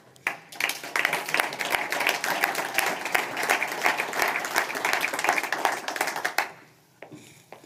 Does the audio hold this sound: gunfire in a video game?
no